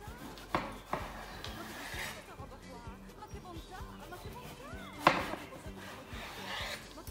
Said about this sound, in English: Once you have peeled the eggplant, you need to cut it into slices